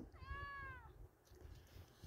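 A cat gives one clear, drawn-out meow up close, surrounded by quiet low background noise.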